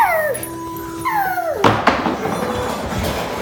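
Puppies howl and yip close by in high falling wails, two long howls and then a burst of sharp yips and rustling. The sounds may come from people imitating puppies in play.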